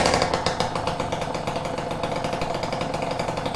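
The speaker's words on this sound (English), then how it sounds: "Okay, ignition on, a little bit of choke, fuel on. Let's give it a little bit more gas." A Peugeot Fox 50cc moped fitted with a Leovince ZX silencer and Malossi exhaust, running on a little choke, buzzes close and loud with a rapid, rattly two-stroke pulse that holds a steady pitch throughout.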